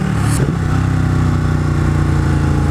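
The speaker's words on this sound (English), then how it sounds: "The engine is smooth. It rev matches smoothly." A 2016 Ducati 959 Panigale sport bike engine revs steadily and loud up close, a continuous throaty drone with a brief blip near the start and no voices over it.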